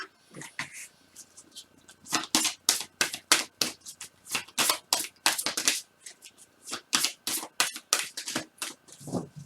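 Crystal oracle cards are shuffled by hand at close range, a quick series of crisp riffling flutters in uneven bursts with short pauses between, no talking.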